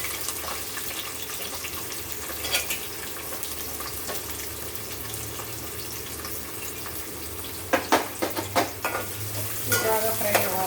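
Chopped onion and green chillies fry with whole spices in a pan for mutton curry, a steady close sizzle with scraping stirs and a few louder clatters near the end.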